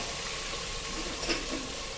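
Finely chopped tomato is stirred in a hot pan with spluttered mustard seeds, turmeric, curry leaves and coriander, giving a constant dense sizzle with one brief scrape midway.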